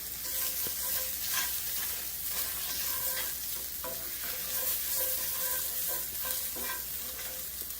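Garlic butter steak bites sizzle hard in a hot skillet while being stirred, a steady, close frying hiss broken by scraping pulls of the utensil across the pan throughout.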